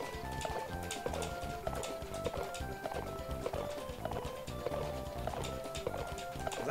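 Rapid, rhythmic hoof clip-clops of a horse galloping in Mario Party 3, steady and fairly loud over bright game music.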